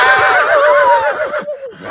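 Horse on a ranch gives a loud, close whinny, a quavering high neigh that slides downward over about a second and a half before trailing off.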